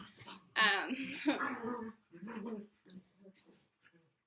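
Several dog barks and whimpering yelps in quick bursts, fairly close, with short pauses between them.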